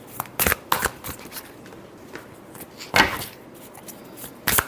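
A deck of tarot cards being riffled and shuffled by hand, several quick crisp fluttering bursts separated by short pauses, close up with no talking.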